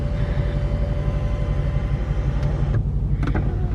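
The one-touch sunroof of a 2017 Mercedes-Benz AMG C63s Coupe runs with a steady motor hum inside the cabin, cut short by a couple of faint clicks near the end, with no voices.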